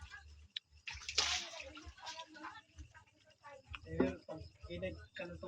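Water splashing and sloshing, as in a tub or basin being filled or washed in, with a louder burst near the start and intermittent splashes under nearby talking.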